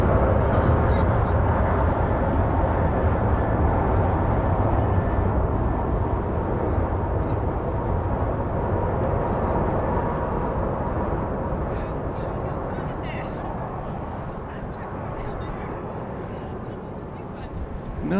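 Airplane in Hawaiian livery arriving at Dallas Love Field, a broad continuous jet rumble that slowly fades as it passes, with talk over it.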